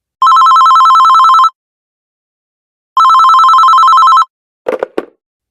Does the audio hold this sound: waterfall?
no